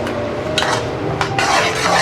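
A spoon works through spiced beef kofta mixture in a pot, two or three loud scraping strokes over a steady low background, close by and with no voices.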